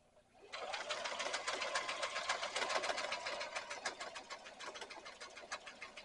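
A sewing machine runs steadily stitching a straight seam on an over-the-seat rifle carrier, a fast even rattle starting abruptly after a quiet moment and slowly easing toward the end, close and alone.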